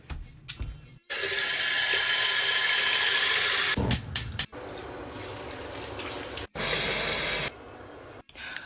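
Boiling water pours from pots into a bath in long, steady hissing gushes, two main pours broken by short pauses with small knocks and clatter between them, fairly close.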